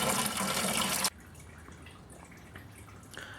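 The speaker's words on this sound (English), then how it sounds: "it's going to thoroughly drain that cooling system." Coolant drains from the cooling system of a 2008 Chevrolet Cobalt LS, a loud rushing gush for about a second that cuts off abruptly, followed by faint dripping and trickling.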